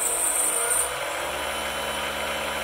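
A PM-728V-T milling machine spindle spins at about 4375 RPM, its maximum, with the quill fully extended, giving a steady, close mechanical whine and hum that holds evenly throughout.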